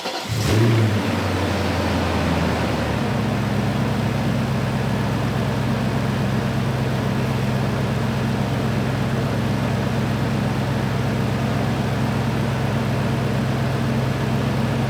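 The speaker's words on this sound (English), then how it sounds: "then it's time to start the car" A car engine turns over and catches, then settles into a steady, loud idle that runs unbroken to the end, during work to check a coolant leak.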